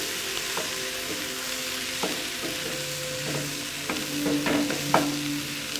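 Samosa filling of boiled mashed potatoes being stirred and fried in a pan, a steady low sizzle broken by repeated scraping strokes of a spoon, growing busier toward the end, no voices.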